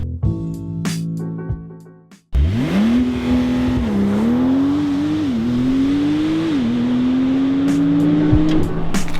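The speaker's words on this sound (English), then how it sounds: "this is the 2021 Porsche 911 Turbo S" A 2021 Porsche 911 Turbo S is started and driven, with a brief quiet gap before the engine surges into a loud, close, sustained drone that rises and shifts through gears.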